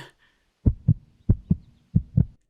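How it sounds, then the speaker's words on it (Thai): Heartbeat sound effect in a Thai audio drama, three clear double thumps in a steady lub-dub rhythm, close and prominent with no voices over them. "หัวใจเต้นแรงขึ้นมาเอาเสียดื้อ"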